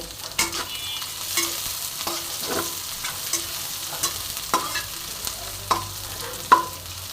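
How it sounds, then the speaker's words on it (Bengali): Chopped onion and a slit green chili fry in hot oil with a steady sizzle, broken by repeated spoon scrapes and taps against the pan, close up, with no voices. "এবার আমি তেলের মধ্যে দেব কুচানো কিছুটা পেঁয়াজ আর একটা চেরা কাঁচা লঙ্কা তো আমি দিয়ে দিলাম এবার এটাকে ভালো মতন আমি ভেজে নেব"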